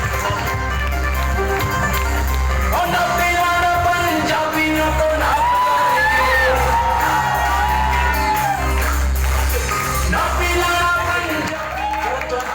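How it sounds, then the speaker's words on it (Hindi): A hall audience cheers and yells loudly throughout, whoops and shouts layered over a continuous crowd roar, with applause blended underneath. "वंडरफुल अप्लॉज सर, बहुत जोरदार ताली बजाइए"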